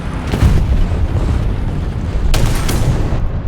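Loud War Thunder tank combat rumbles with heavy booming cannon fire, two sharper blasts standing out over a continuous low engine drone, around a shot bouncing off a Panzer III.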